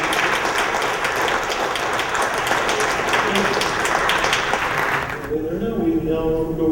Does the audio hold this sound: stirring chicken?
no